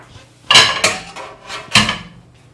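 Clatter of a spoon stirring sulso, a traditional Ethiopian meat dish, in a pot: several sharp metallic scrapes and knocks in an irregular rhythm, close and fairly loud, with no talking.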